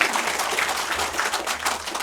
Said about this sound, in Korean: 이 박수 치는 거 보십시오 지금.